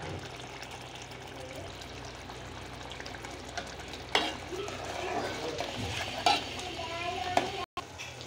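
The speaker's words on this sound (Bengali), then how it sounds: "এবার চিকেনটা সহ মশলাটা আবার ভালো মতো কষিয়ে নিব।" Chicken pieces with spices being stir-fried in a pan for Bangladeshi hotel-style chicken soup, a constant moderate sizzle punctuated by scraping stirs and clinks of the utensil.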